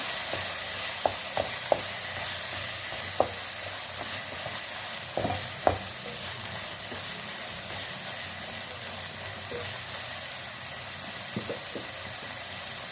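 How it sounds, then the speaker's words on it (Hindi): Spices and chicken roasting in a pan with turmeric, ground coriander, red chilli and salt: a steady soft sizzle throughout, broken by a few sharp clicks of a spoon stirring against the pan. "एक से 2 मिनट हम मसालों और चिकन की अच्छी सी भुनाई कर लेंगे।"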